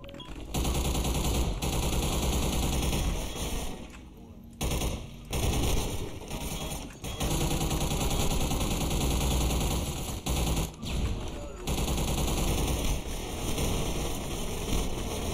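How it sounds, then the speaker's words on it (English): Gunfire in the shooter Hunt Down The Freeman comes as loud, rapid automatic bursts that keep cutting out and starting again, with short gaps between volleys. "What is shooting at me?"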